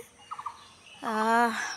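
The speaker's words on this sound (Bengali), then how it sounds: "গাছে বিভিন্ন রকমের পাখি ডাকছে।" Birds call from trees near a raised platform: a quick run of three short chirps, then a louder, longer harmonic call, close and clear against a quiet background.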